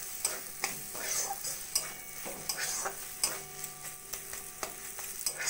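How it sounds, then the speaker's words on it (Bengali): A utensil stirs prawns in a coconut mustard sauce with mustard oil in a pan, giving soft scraping strokes and light ticks over a faint, steady sizzle, quiet and close. "আর অল্প করে একটু সর্ষের তেল দিয়ে নাড়াচাড়া করে আমি গ্যাসটা বন্ধ করে দেব"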